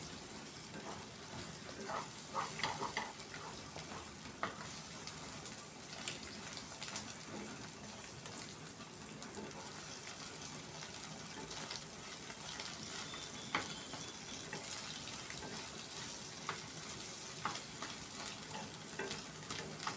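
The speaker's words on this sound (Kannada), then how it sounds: "ಚೆನ್ನಾಗಿ ಕಲಸಿ ಫ್ರೈ ಮಾಡ್ಕೊಳ್ಳೋಣ." Drumstick leaves and cracked egg are stirred and fried together in a pan, producing a constant soft sizzle broken by frequent scraping stir strokes, fairly quiet overall.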